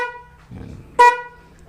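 A single short car horn honk, loud and close, preceded by a faint low rumble.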